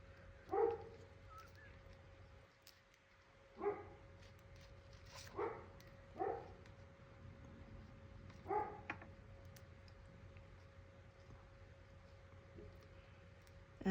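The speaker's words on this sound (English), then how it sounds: "so you can hear her out there barking" Several sharp dog barks at a distance, spaced irregularly over a steady low hum, with soft background noise between them.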